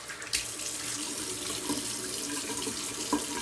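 Water runs steadily from a tap into a sink while a razor is rinsed during a wet shave, a close, continuous splashing stream heard alone.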